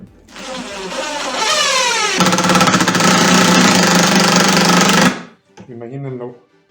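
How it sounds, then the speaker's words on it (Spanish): Drill driving a screw hard into a wooden swing, a loud steady buzzing whine with a rapid rattling knock through its middle, cutting off abruptly before a short burst of speech. "ya se escucha el golpeteo porque le cuesta meter el tornillo"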